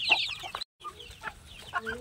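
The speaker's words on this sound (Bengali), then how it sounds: "ওই দেখো ভিতরে কতগুলো মুরগি, এইখানেও আছে, আবার এই ফাঁক দিয়ে দেখা যাচ্ছে ডাকছে" Several desi chickens and chicks clucking in a pen in a village home near Digha, a few short close clucks broken by a brief silent gap.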